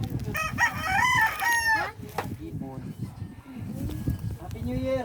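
A rooster crows loudly with harmonic calls on a farm, joined by clucking fowl, while people talk nearby throughout.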